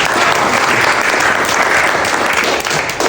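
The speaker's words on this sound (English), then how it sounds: "Can everybody clap please for Mr. Predify?" Audience applause at a Dubai startup founders' community event, a dense sustained burst of clapping from a full crowd, loud and steady throughout with no talk over it.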